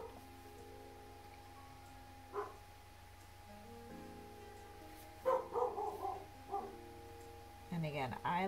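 A dog barks indoors, a few scattered woofs and yips rising over a quiet room hum, with a person talking throughout.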